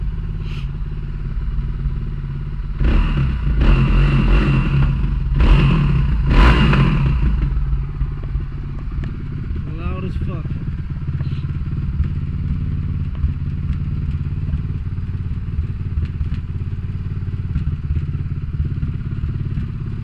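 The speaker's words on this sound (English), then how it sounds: "There you go, that's my bike." A flat-black Suzuki DR350 dual-sport motorcycle engine runs for twenty seconds, loud and close, with a few heavy thumps and clatters early on over a continuous single-cylinder rumble.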